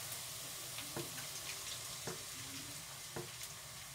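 Eggs fry in a pan with bacon and onion, a quiet steady sizzle broken by a few soft scraping taps.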